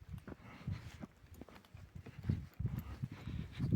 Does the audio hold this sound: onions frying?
no